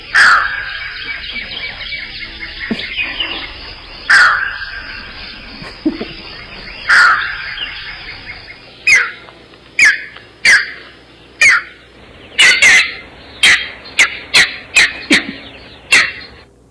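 A recorded bird call plays back as loud, harsh, raspy squawks, first spaced a few seconds apart and then in a quicker irregular series of sharp bursts, heard alone without talk.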